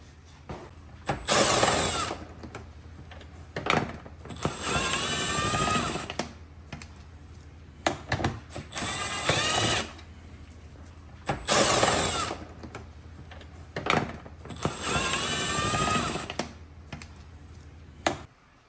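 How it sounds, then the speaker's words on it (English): A power tool backs screws out of a car's tail lights in repeated whirring bursts of one to two seconds, separated by short pauses, close and fairly loud with no talking. "we're going to be removing these screws on each side on both of them"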